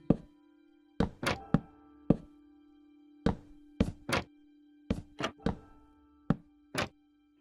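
Log blocks being placed while building a wizard's house in Minecraft: about a dozen hollow wooden thunks in irregular clusters, crisp and close over a steady low hum.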